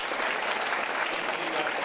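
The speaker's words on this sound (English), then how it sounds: "let's give her a round of applause" Steady, dense applause from a banquet audience at a school district retirement and recognition dinner, filling the room evenly and continuously without a break.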